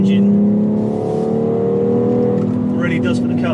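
A BMW X3 M or X4 M engine drones and climbs in pitch as it accelerates, steady and close, with a voice talking over it.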